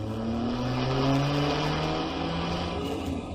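A car engine roars steadily in a radio-drama chase, a loud sustained drone with shifting pitch that runs throughout without a break.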